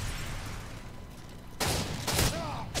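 Shotgun blasts in the video game Modern Warfare 3: after a quiet stretch of game ambience, two loud, sharp gunshots boom close by about half a second apart, each trailing off into a brief rumbling tail.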